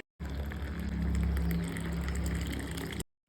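Heavy rain pouring down outside, a dense continuous roar of water with a low rumble underneath, steady and fairly close, no voices.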